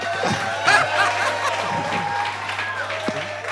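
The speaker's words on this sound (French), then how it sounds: "On l'applaudit bien fort." Audience at a children's show applauds a performer, scattered clapping mixed with light laughter and chatter while voices talk over it.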